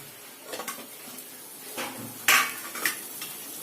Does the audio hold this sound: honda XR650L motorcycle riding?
no